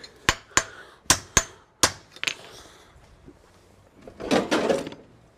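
A farrier hammers a horseshoe onto a horse's hoof, striking about six sharp, ringing blows at an uneven pace before a burst of scraping and shuffling. The work is close and clear, with no talk.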